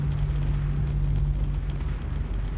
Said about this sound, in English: it makes explosions on the surface